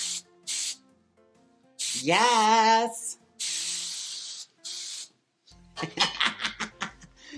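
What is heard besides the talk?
hairspray spraying on a wig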